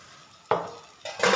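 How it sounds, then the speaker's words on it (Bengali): Fried fish being stirred back into a pan of fish bhujia with a spatula: a quiet lull, then two short bursts of scraping and sizzling, close and moderately loud, with no talking. "এখন এটাকে আমি ভালো করে নেড়ে চেড়ে আবার 2-3 মিনিটের জন্য আবার এটাকে রেখে দেবো।"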